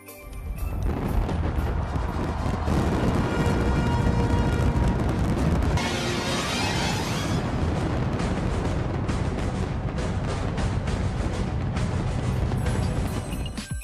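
Midnight New Year fireworks go off at the Burj Khalifa in the UAE, a dense, continuous barrage of booms, bangs and crackles that stays loud and unbroken throughout.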